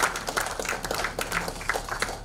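An audience at a Liberty Korea Party lawmakers' workshop applauding party leader Hong Jun-pyo: steady, fairly quiet clapping from a room of people, a continuous patter of many hands without a clear peak.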